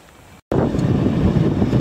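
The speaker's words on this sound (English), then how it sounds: "It's cold and it's windy." Wind gusts and buffets loudly, rumbling against the microphone after a brief cut, a steady blustery roar with no voices.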